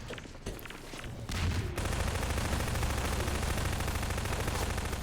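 SMG gunfire in a Half-Life 2 Deathmatch match rattles in rapid sustained bursts, loud and continuous after a brief quieter opening, with dense game noise behind.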